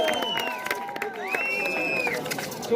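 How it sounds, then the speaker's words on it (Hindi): Spectators at a village kabaddi tournament final clap and cheer outdoors, a scattered steady patter of applause and crowd noise beneath a loud announcer's voice over a PA system. "आप जोरदार तालियों से इन दोनों खिलाड़ियों का, तीनों खिलाड़ियों का उत्साहवर्धन करें।"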